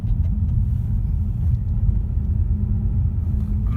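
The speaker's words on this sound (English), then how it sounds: "I'm not sure why I'm getting excessive road noise" Road noise inside a 2.3 EcoBoost Mustang while driving: a loud, continuous low rumble and drone that fills the cabin and holds steady throughout, with no talking.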